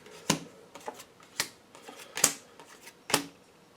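Four or five brisk, crisp riffles of tarot cards being shuffled, each a short papery burst with quiet pauses between, close by with no talking.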